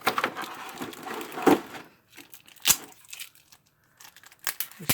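Plastic packaging and tape are handled while instructions are pulled free from a boxed figure: close, crinkly rustles and sharp peeling bursts come in uneven spurts, with quiet gaps between.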